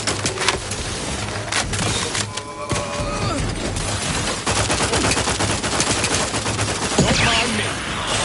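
Gunfire in The Outer Worlds 2, with dense bursts of rapid automatic shots crackling throughout over a steady game soundscape, with faint voices mixed underneath.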